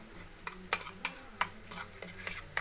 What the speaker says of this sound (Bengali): এবার সবগুলো মশলা আমি একসঙ্গে মিশিয়ে নেব।